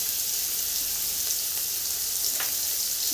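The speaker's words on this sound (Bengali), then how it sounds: "দিয়ে দেবো পেঁয়াজ কুচি।" Chopped onion frying in hot oil tempered with black cumin (kalo jeere), a steady, even sizzle and crackle that carries on without a break, with no talking.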